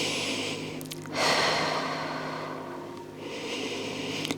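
Slow, deep breaths during a full-body workout, long airy inhales and exhales close to the microphone, rising and falling in two or three cycles, with no talking.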